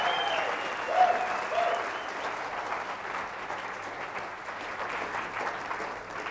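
Enthusiastic audience applause for a corporate magician's stage show, a steady dense clatter of many hands clapping close and loud for several seconds, easing slightly toward the end.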